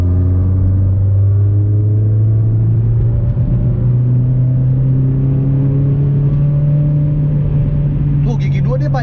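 Toyota MR2 second-generation W20 engine accelerating in second gear, a loud steady drone that climbs in pitch over several seconds, heard from inside the car with a brief rattle near the end.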